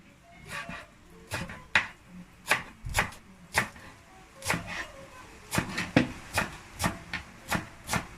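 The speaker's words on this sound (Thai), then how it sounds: "we will chop chop chop our coriander" A knife chopping coriander on a cutting board in quick irregular strikes, close and crisp, about a dozen taps over several seconds with no talking.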